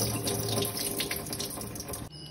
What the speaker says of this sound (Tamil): 2-3 தடவை வாஷ் பண்ணிவிட்டு ஒரு ½ அன் ஹவர் ஊற வச்சிடலாம்.